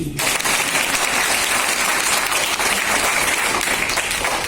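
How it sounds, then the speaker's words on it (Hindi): A room full of people claps steadily at a network marketing talk. Dense, even applause holds for several seconds without a break. "तालियां नहीं होनी चाहिए?"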